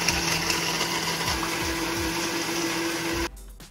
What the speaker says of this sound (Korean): 제가 이걸 위해서 또